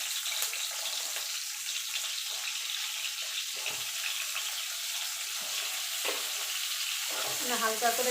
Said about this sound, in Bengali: আমি এই তেলে ঝিঙেগুলো একটুখানি ভেজে নেব।